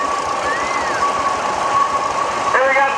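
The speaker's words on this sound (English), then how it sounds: "Twin City 60. That's the 6-cylinder version." A Twin City 60 six-cylinder tractor engine chugs at a parade in a steady, rapid knocking rhythm, with a thin whine and faint beeping mixed into a busy outdoor background.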